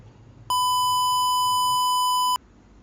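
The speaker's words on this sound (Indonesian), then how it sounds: "maka alarm aktif, pagi tiba" A single steady electronic beep from a light-sensor smart morning alarm project, clear and close, lasting almost two seconds over faint room hiss.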